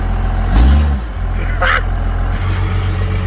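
Jeep powered by a 12v Cummins diesel, backing out in 4 low with an off-road diesel rumble and a brief surge of engine noise near the start, running steadily and close throughout.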